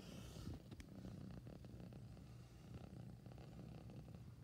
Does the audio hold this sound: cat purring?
yes